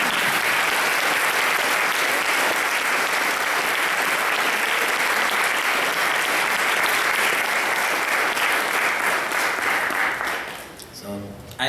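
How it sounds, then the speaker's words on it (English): Loud, sustained applause from a large audience at a tilak ceremony, dense and steady for about ten seconds before quickly fading out. "give a big applause to all of us"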